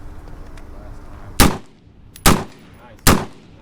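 Three loud, sharp rifle gunshots at an outdoor shooting range, evenly spaced under a second apart, each ringing out briefly against a low background hum.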